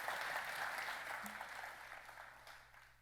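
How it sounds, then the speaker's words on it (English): An audience at a nature-themed lecture event applauds a speaker, an even, fairly distant patter of clapping that gradually tapers off over a few seconds. "Let's go ahead and give him a round of applause."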